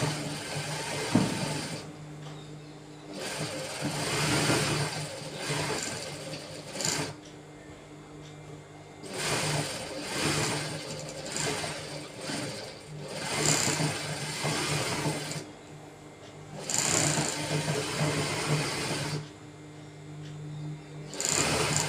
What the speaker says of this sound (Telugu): పైన నుంచి స్టిచ్ వేయాలి